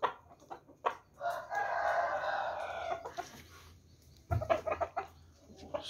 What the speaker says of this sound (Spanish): Están los pollos.